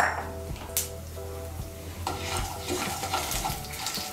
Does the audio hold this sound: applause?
no